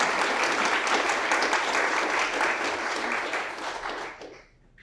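Audience applause welcoming a speaker at a talk, steady dense clapping that carries on for several seconds and then quickly fades out.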